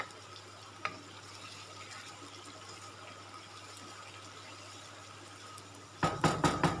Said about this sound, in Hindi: यहाँ पे फ्राई कर लेते हैं चिकन और मिर्च दोनों को।